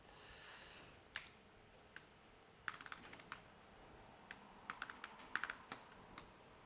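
Typing on a computer keyboard, with scattered clicky keystrokes in short uneven bursts, fairly quiet and close, without any voices.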